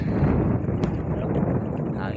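Wind buffets the microphone outdoors by the sea while fishing, a low continuous rumble that carries through the whole clip under a voice.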